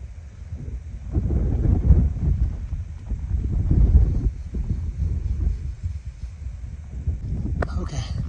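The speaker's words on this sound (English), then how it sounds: "Now the wind." Wind gusting on the Appalachian Trail in Maine, a low rumbling buffet on the microphone that swells and eases steadily, close and fairly loud, with someone talking briefly at times.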